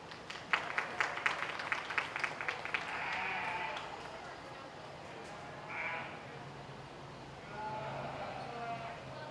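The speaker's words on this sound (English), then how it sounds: "Let's give them both a big round of applause." Audience clapping at a youth livestock showmanship contest, starting as a patter of individual claps and merging into a short burst of applause, with a brief sheep bleat and scattered crowd noise after.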